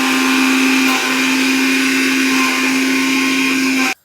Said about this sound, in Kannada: ಸೊ 3 ಹಾಕಿ ಬ್ಲೆಂಡ್ ಮಾಡ್ತಾಯಿದ್ದೀವಿ. Actually separate ರುಬ್ತಾರೆ. ಸೊ ನಾನು 3 ಒಟ್ಟಿಗೆ ಹಾಕಿ ರುಬ್ತಾಯಿದ್ದೀನಿ